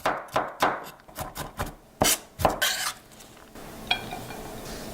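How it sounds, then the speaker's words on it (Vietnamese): Close knife chopping of garlic on a board, a handful of irregular taps with some scraping and rubbing, then a quieter, lighter stretch near the end. "Tỏi mình cũng cắt nhỏ và băm tương tự như vậy luôn ha các bạn."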